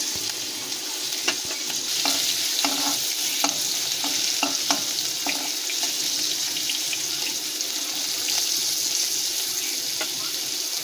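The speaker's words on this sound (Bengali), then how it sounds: "আলুগুলোকে ভালো করে ভেজে নেব।" Potatoes frying in oil: a steady, loud sizzle with scattered clicks and scrapes of a spatula stirring them, no voices.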